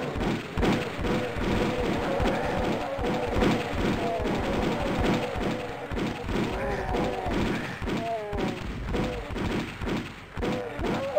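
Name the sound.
pistol firing in the video game Doom mod Cringe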